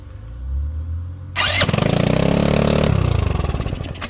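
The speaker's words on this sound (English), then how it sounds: "she starts right up, man. Fires right up." A Honda Ruckus scooter with its throttle spring set all the way in cranks briefly, fires up loudly and settles into a close, steady, rapidly pulsing idle.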